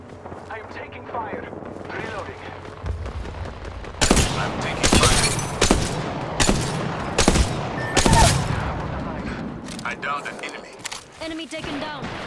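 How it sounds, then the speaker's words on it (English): Gunfire in the video game Apex Legends: loud rapid volleys and single cracks come in several bursts, with sharp blasts clustered mid-stretch amid steady game ambience, while spoken game callouts play alongside. "Shots fired at me"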